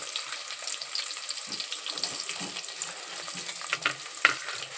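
Chopped onions sizzling in hot oil in a pan, a steady crackling hiss with faint stirring clinks and scrapes, fairly quiet and close, with no talking.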